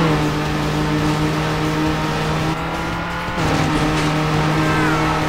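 Turbocharged race cars in the video game Need for Speed Underground, including a Golf, an Evo and an MX5, roar steadily with tire squeal and skidding, a brief dip midway before the engines surge back loud and continuous.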